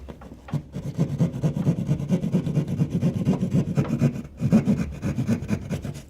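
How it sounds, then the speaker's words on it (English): Drywall being cut out by hand for an electrical box opening during a conference room installation, a steady rough rasping saw stroke repeated rhythmically, close and fairly loud with a brief pause partway. "Let's go ahead and cut out for the electrical box."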